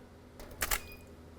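A camera shutter fires while water is thrown onto lime for flash motion-freezing photography, heard as a quick pair of close, crisp clicks with a faint brief splash-like rush, against a quiet room background.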